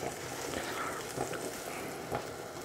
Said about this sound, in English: Wait for all that to sizzle away.